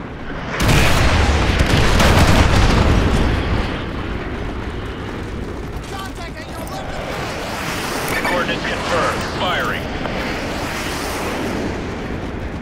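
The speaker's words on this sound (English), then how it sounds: "Artillery inbound." Incoming artillery in Call of Duty Modern Warfare 2 erupts in a loud, close boom that rolls into a long rumbling roar, then settles into continued distant thunder and debris while voices speak over the din.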